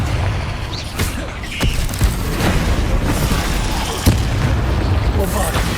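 A Confringo blasting spell explodes in Hogwarts Legacy, giving a few sharp booms and bursts over a dense, steady rumble of game noise.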